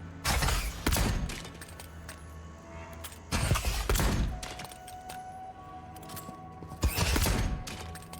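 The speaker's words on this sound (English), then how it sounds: "The magic missile pistol." Three heavy magical bursts from the magic missile pistol in the fantasy game Avowed, each a loud thudding blast with a crackling tail, spaced a few seconds apart over a faint humming background.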